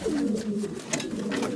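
Racing pigeon cooing in a loft, a soft, steady low-pitched murmur running throughout, close and fairly loud, with no speech over it.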